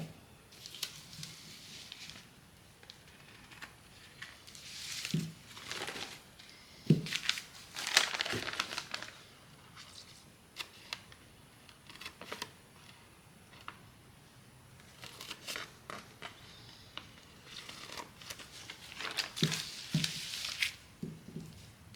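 Freshly sharpened scissors cutting through material in short, crisp bursts of snipping and crinkling separated by quiet gaps, faint and close with no voices.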